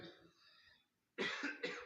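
A man preaching a church sermon breaks off and coughs twice in quick, harsh bursts, close and loud after a brief stretch of voice and a short silence.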